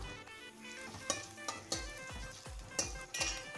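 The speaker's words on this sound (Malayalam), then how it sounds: "നന്നായിട്ടൊന്ന് ഇളക്കി കൊടുക്കാം" Chopped green chilies stirred in a pan for a spicy macaroni pasta, a utensil scraping and clinking against the metal in several sharp knocks over a soft sizzle, close and alone.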